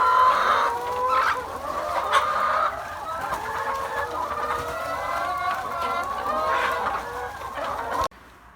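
Laying hens cluck and chatter close by in a coop with a dust bath, a continuous busy flock of overlapping calls that cuts off abruptly at the end.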